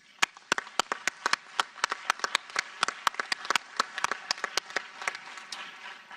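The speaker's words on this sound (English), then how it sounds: "you should all give yourselves a great hand of applause" Meeting participants applaud themselves at the close of a session, a modest scattering of sharp individual claps with uneven rhythm, fairly close, lasting several seconds and without talk.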